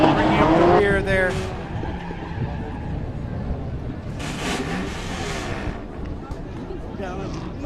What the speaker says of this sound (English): Got a little bit of noise here with different cars. We're near the pits.